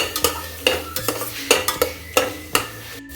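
Repeated scraping strokes of a utensil stirring tomato puree in a cooking pan, about six even, close strokes with a faint sizzle underneath and no talking.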